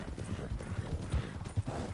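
Horse hooves clip-clop steadily while riding in a western video game, a brisk, even rhythm of thuds close by at moderate volume, with a faint whinny-like sound and no talk.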